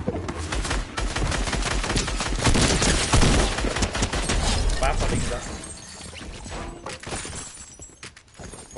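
Rapid gunfire in Fortnite, a dense stretch of repeated blasts with crashing impacts over the first five seconds, then sparser game sounds, with a voice talking over the action.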